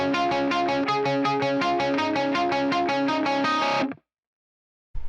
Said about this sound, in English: I moved to just like single palm muting of those notes